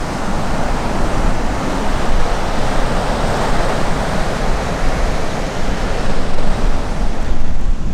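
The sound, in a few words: waves and surf at a beach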